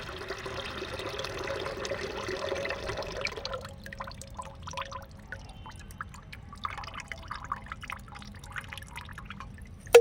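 Water is poured over used tea leaves to rinse them clean, a steady close trickle that thins into scattered drips and splashes, with no talking.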